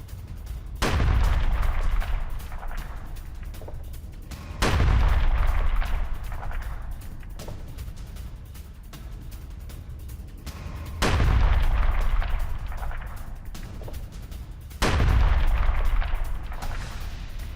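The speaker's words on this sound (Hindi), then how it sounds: "टायर इलाके में आईडीएफ फाइटर्स की भीषण बमबारी, ये देखिए जरा।" Israeli fighter-jet bombardment strikes the Tyre area of Lebanon, heard as four heavy, booming blasts spaced several seconds apart, each with a long rumbling tail, over a continuous low roar.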